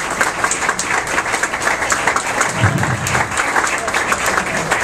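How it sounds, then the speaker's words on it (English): Applause from the audience at a 2010 State of the City address: continuous, fairly loud rippling clapping from a large room, with some murmuring voices mixed underneath. "you are the people that deserve the applause today"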